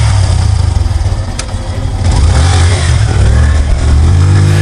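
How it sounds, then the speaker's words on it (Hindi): Motorcycle engine roaring in a Hindi cartoon story scene at night, a loud continuous rumbling growl that swells as it revs, heard alone without voices. "हेडलाइट की चमक और इंजन की गड़गड़ाहट ने माहौल बदल दिया।"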